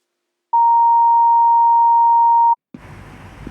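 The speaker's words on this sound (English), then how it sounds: "leave a message after the tone" A voicemail beep: a single pure, steady tone lasting about two seconds after a moment of silence, cutting off cleanly and followed by low, muffled background noise.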